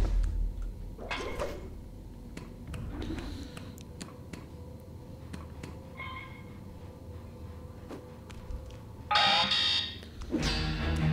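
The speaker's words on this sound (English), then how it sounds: "So there is now an alarm." An alarm rings out in the stealth game Mark of the Ninja, a bright, harsh burst rising near the end over steady background game ambience, with several brief thuds and clanks scattered throughout.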